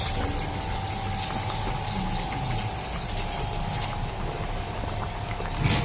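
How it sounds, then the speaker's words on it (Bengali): Fried pabda fish go into a simmering fish curry. A steady, close, loud bubbling hiss continues without a break, with a slight swell right at the end. "এবার আমি ভেজে রাখা মাছগুলোকে দিয়ে দেবো পাবদা মাছ"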